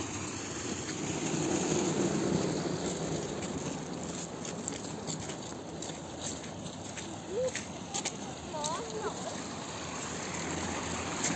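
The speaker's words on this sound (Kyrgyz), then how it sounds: "бул жактан да суу түшүп атыптыр" Meltwater from thawing snow runs and trickles along the ground outdoors, a faint continuous rushing flow with occasional splashes, and someone talks briefly at times.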